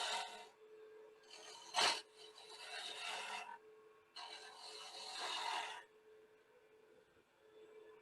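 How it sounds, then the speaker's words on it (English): A bowl gouge cuts wood on a lathe while turning a cross, producing close, raspy scraping bursts in several passes separated by short pauses, with a sharp catch near the start and a faint motor hum underneath. "take a bowl gouge, and we're just going to come in and reduce the size."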